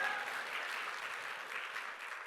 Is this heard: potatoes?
no